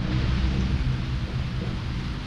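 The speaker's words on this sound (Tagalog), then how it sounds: "Umuulan na naman." Steady rain falling with a broad, continuous hiss and low rumbling, close and uninterrupted, no voices.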